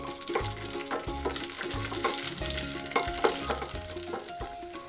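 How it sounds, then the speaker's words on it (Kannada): Six green chillies fry in a pan for dal or masala cooking, giving a steady, close sizzle with rhythmic stirring scrapes and occasional clatter, with no talking. "6 ಹಸಿಮೆಣಸಿನಕಾಯಿಗಳನ್ನು ತಗೊಂಡಿದ್ದೀನಿ, ಇದನ್ನು ಕೂಡ ನಾನು ಫ್ರೈ ಮಾಡ್ಕೋತಾ ಇದ್ದೀನಿ."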